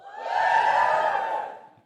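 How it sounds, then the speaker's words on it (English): An audience gives a short burst of cheering and whooping, swelling quickly and fading after under two seconds, heard from a moderate distance without other talk. "give a cheer who agrees with me"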